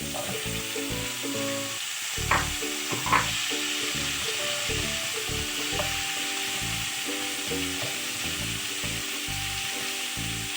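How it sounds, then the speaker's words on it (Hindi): Chopped, washed vegetables going into a pan of sautéing onions for a Kerala-style fish stew, steady close sizzling with a couple of sharp spatula scrapes and a low background hum. "इसको थोड़ा सौते करके मैं अब इसमें डाल दूंगी काट के धुला हुआ मेरा सब्जी"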